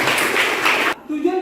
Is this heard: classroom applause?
yes